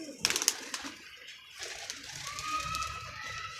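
Pigeons coo nearby in a loft of flying pigeons, with a few sharp clicks and flutters at the start and a low, soft cooing that follows.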